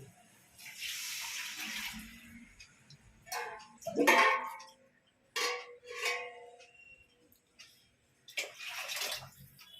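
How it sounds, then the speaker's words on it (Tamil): Water poured from a metal pot over soaking rice for prawn biryani, heard as several separate splashing pours with quiet pauses between them, close and fairly loud. "மூணு கிளாஸ் அரிசிக்கு மூணு கிளாஸ் தண்ணி இதில் ஊற்றுறேன்"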